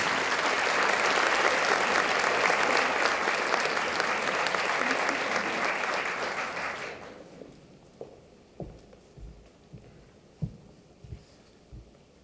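Audience applause welcoming Dr Cynthia Bioteau at a college investiture ceremony, a dense, loud burst of clapping for about seven seconds that fades out, followed by scattered single claps and footsteps.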